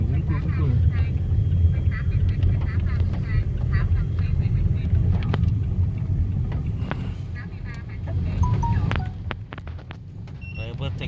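Motorbike traffic on a street in Vietnam gives a continuous rumble of engines close by, with a brief louder pass, while people talk over it.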